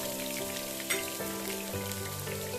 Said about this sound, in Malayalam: നീളത്തിൽ സ്ലൈസ് ചെയ്തത് നമുക്ക് ചേർത്ത് കൊടുക്കാം. അത് നന്നായി ഒന്ന് വഴറ്റിയെടുക്കാം.